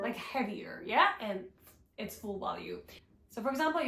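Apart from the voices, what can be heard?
No distinct noise like a dog, phone or traffic.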